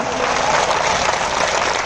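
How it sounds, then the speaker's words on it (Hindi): Applause from a large crowd at a Virat Hindu Sammelan, a VHP Hindu gathering in Dungla, with dense, steady clapping that stays loud and even throughout. "ये शूरवीरों के अभिनंदन की तालियां है, ये हिंदू योद्धाओं के संकल्प की तालियां है।"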